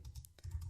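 Short burst of typing on a computer keyboard, a few quick soft key clicks close by and fairly quiet over a low background hum.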